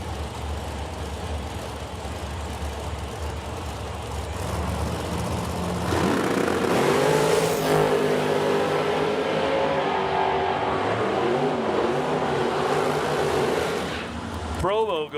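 Drag race cars at the T&T Motorsports Oil City Classic in Edmonton launch in two lanes and roar down the strip, swelling from a loud rumble into a sustained high-revving engine howl, with an announcer talking over the noise.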